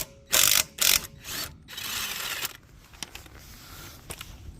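A ratchet cranks on the wheel nuts of a Ford S-Max, starting with two loud bursts of rapid clicking, then lighter ratcheting and scattered mechanical clicks close by, with no voices.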